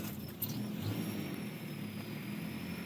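A 1986 Mazda B2000 SE-5 pickup engine, cold and long unused, runs steadily at a low idle with a continuous mid-range hum and no pauses, moderately loud and close, with no talk over it.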